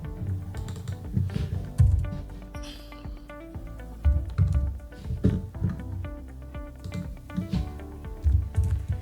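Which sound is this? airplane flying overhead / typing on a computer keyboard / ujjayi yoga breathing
typing on a computer keyboard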